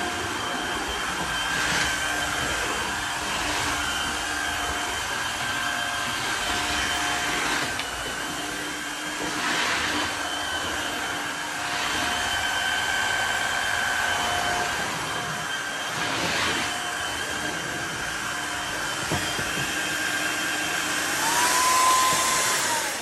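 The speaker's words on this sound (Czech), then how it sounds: "Ale nemusíte vlastně vyplachovat jakoby celý ten vysavač, to vám vlastně udělá ta samočistící funkce." A wet vacuum cleaner runs its self-cleaning cycle indoors, a loud, steady motor whine and airflow hum that continues for over twenty seconds with slight swells and small shifts in pitch.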